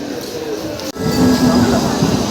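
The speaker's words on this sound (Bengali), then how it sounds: "চলো ট্রেন ঢুকে গেছে মেমো ট্রেন" A MEMU commuter train pulls into a station with a loud, steady rolling rumble and a faint thin wheel squeal; the noise briefly cuts out near the start, then continues close and strong.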